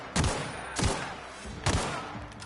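Gunfire in the video game The Outer Worlds, three sharp, loud shots spaced unevenly, each with a punchy low thump and a short ringing tail, no voices.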